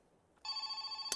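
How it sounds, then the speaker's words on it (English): A telephone rings inside the Farming Simulator 22 game, a steady electronic ringtone that starts abruptly and repeats in even pulses, loud and close with no talking. "Phone again."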